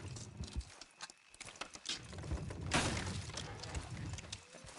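Horses in the Red Dead Redemption 2 video game clop and patter as they move, a busy mid-distance rumble of hooves and tack that swells briefly and then eases.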